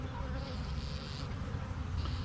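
Honey bees buzzing around hive frames, about five frames covered with bees flying out. The buzz is a steady, dense hum that stays close throughout with no pauses.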